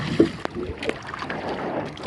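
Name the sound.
strong sea waves around a small fishing boat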